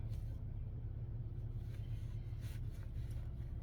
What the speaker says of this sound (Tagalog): sasakyan ikot ng ikot walang maparkingan